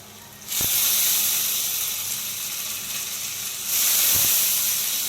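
Lentils (dal) frying in a hot pan with garlic, ginger and chili paste in a village kitchen: a loud, steady sizzling hiss bursting in suddenly, easing slightly, then surging again, with no talk.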